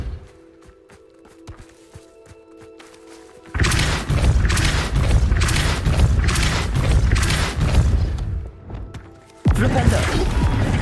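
Depulso spell cast in the Hogwarts Legacy video game, a sudden heavy boom that breaks into a sustained rumbling, crashing burst of impacts, followed by a second strong hit, with a quieter mechanical hum before it.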